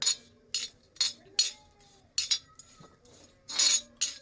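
A spatula stirs dried shrimp (karandi) roasting in a pan, producing a steady series of short, crisp metallic scrapes about twice a second, each stroke sharp and close with quiet gaps between.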